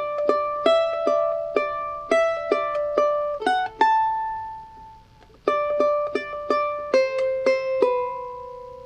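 A charango plays a Bolivian taquirari phrase, close and clear, with bright plucked notes in a lively rhythm that pauses briefly midway before resuming, with no voice.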